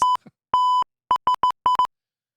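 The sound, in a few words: censoring beep sound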